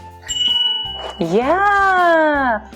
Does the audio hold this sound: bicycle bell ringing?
yes